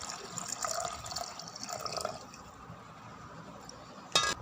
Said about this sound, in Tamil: நம்ம எடுத்து வச்சுருக்க பாலை சேர்த்துருங்க